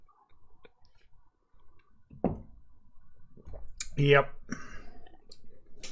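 Mechanical keyboard keys with clicky Kailh Green switches tap in quick, crisp clicks close to the mic, with a brief spoken word among them.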